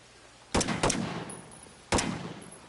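Three close, loud gunshots fired at a target on a shooting course, a quick pair followed by a single shot after a pause, each ringing out with a short echo and no talking.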